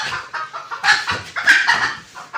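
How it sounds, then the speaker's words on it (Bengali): A native hen clucks repeatedly indoors in a room under painting work, where it has come to lay eggs; the short, close, fairly loud clucks come in quick irregular bursts with no talking. "এই যে দেখেন ঘরের মধ্যে মুরগি এসে হাজির"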